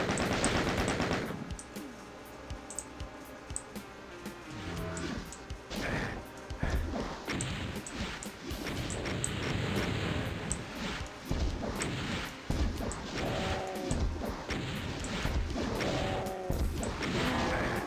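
Rocket fire and repeated blasts in Metal Gear Rising: Revengeance, a dense, chaotic stretch of loud bangs, crashes and impacts over game music and effects.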